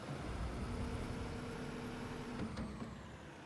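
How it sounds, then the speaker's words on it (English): Heavy vehicle engine in the Construction Simulator video game, a loud steady low rumble with a droning tone and a brief hiss or brake burst near the end, no talking. "Holy loud car."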